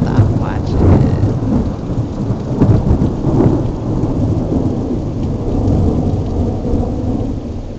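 A thunderstorm in Colorado brings heavy, steady rain, with deep thunder rumbling loud and close throughout, and no voices.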